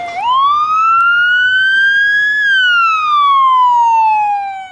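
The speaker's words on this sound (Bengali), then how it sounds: "সাইরেন শুনলেই সামনের পথ চলতি সব গাড়ি দাঁড়িয়ে অ্যাম্বুলেন্সকে যাওয়ার সুযোগ করে দেয়" An ambulance siren on a Dhaka road wails loudly and steadily, rising in pitch, holding, then slowly falling away, with faint traffic rumble beneath.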